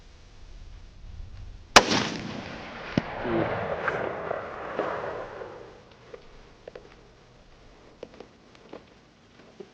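A close, loud report from a Ruger American Gen 2 .308 rifle at an outdoor range, trailing into a rolling echo, followed by smaller clicks and knocks from the shooter's position.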